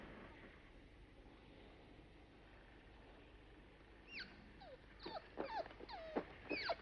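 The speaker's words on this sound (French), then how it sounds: "Mais quels sont ces chiens?" Dogs whimpering and growling, faint at first, then sharper whines and yelps grow louder and more frequent toward the end, with no one speaking.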